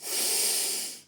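A slow, deep breath drawn in and let out, a steady airy rush that swells and fades over about a second, close and alone with no talk.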